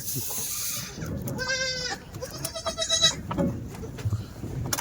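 A Kathewadi goat bleats in a couple of nasal, wavering calls up close, amid rustling livestock-pen background noise.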